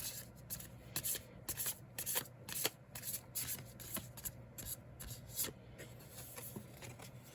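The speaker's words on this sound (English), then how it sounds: "Having a hard time shuffling for some reason today." Playing cards being shuffled during a tarot-style card reading, a rapid run of crisp riffling and shuffling clicks, moderately close and steady with brief pauses, no voice.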